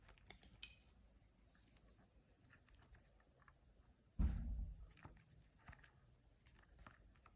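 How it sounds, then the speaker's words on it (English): Surgical scissors snip stitches and stays after a muscle suture during gallstone ileus surgery, giving a few faint, crisp clicks early on and a brief louder thump midway in a quiet operating room. "Cutting stitches about 1/2 centimetre, not too short, otherwise they can't untangle."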